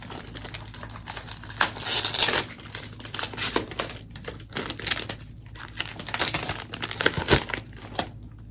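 Wet paper wrapping is peeled and crumpled off a 30 ml fragrance box, giving a close, continuous crinkling and tearing with louder rustling bursts over a steady low hum.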